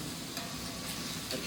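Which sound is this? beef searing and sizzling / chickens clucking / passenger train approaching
beef searing and sizzling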